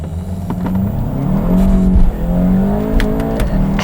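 A VW MK7 GTI fitted with an S&B cold air intake accelerates, its engine note climbing and rising in pitch, with a brief dip as it shifts before pulling again, heard loud from inside the car.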